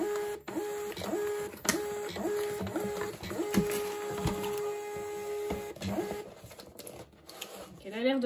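A Munbyn thermal label printer feeds paper with a steady mechanical whir, broken by repeated clicks and short motor bursts, close and fairly loud, with no talking.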